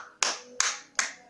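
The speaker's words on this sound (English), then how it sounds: "Come on, clap for me." Three sharp, evenly spaced hand claps, close and loud, each with a short ringing decay.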